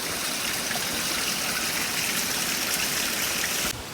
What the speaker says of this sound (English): The water's pretty peaceful.